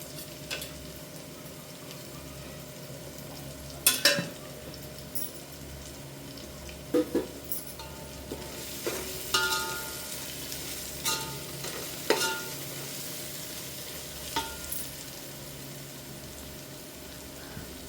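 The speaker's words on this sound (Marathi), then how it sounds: "छान आपला मसाला वाजू द्यायचा तेलामध्ये तेल सुटेपर्यंत" Masala frying in oil for a chicken curry, a steady low sizzle with scattered clinks and scrapes of a spoon stirring in the pan, close and fairly quiet with no talk.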